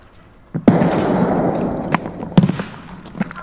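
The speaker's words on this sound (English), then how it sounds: "So he threw that nade." A grenade detonates in a first-person shooter game, a sharp loud blast at the start followed by rumbling debris, then a second heavy burst a couple of seconds later with lingering crackles and small pops.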